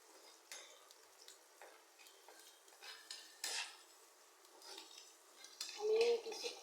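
Okra frying in a pan with turmeric powder, stirred with utensils that scrape and clink irregularly against the metal over a faint sizzle, with a louder knock near the end.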